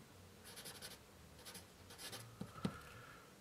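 A Camel HB pencil writing on paper, quiet close scratchy strokes in several short bursts, ending with a couple of light taps.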